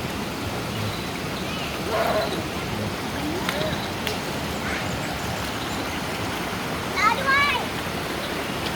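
Steady rushing water of Salika Waterfall in Thailand fills the scene, with faint voices and brief chirps rising above the constant roar.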